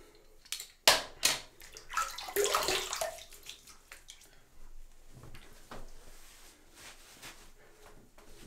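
Water from a tap splashes and runs briefly at a bathroom sink during rinsing after a wet shave, with a few knocks and quieter trickling afterward.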